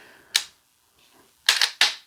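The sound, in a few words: Mantis Blackbeard X trigger actuator resetting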